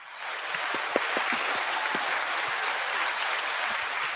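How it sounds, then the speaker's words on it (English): A small studio audience at a live cigar show gives a round of applause for the guest, a few seconds of steady, moderately near clapping with scattered louder individual claps and no speech. "I thought I was going to have to slap somebody to get a round of applause around here."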